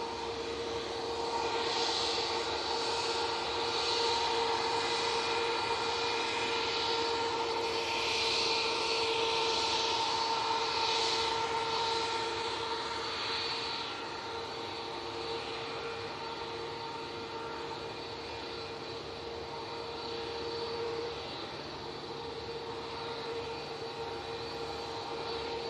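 A Virgin Airbus A330 on approach to touchdown at Manchester Airport gives off a continuous, fairly distant engine drone with a steady whine that swells and fades gently throughout, with no voices.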